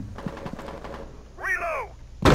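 Gunfire in the video game Rainbow Six Siege, heard as a quick run of sharp shots in the first second, followed by a whining electronic sweep and a loud hit at the end.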